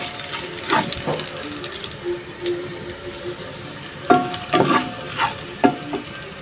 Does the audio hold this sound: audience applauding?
no